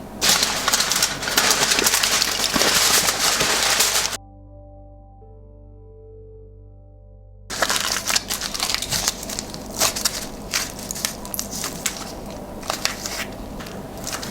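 Aluminum foil crumpled by hand into a ball, with loud, dense crinkling and crackling up close. A brief quieter musical pause breaks it before the crumpling resumes.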